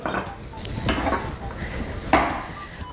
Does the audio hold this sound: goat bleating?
no